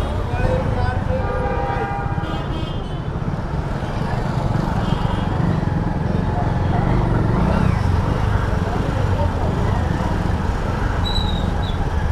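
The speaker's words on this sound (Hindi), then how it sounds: "इधर ट्रैफिक बड़ा लगता है यार।" Busy highway traffic with cars and buses on an NH road in Himachal Pradesh near Baijnath, heard from a Super Splendor 125cc motorcycle: a loud, continuous rumble of engines and road noise with horns tooting now and then.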